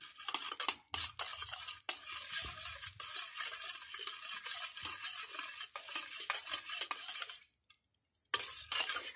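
Almond oil hair serum being stirred in a bowl, with steady close scraping and clinking of a utensil against the bowl, then a brief silence near the end before the stirring resumes.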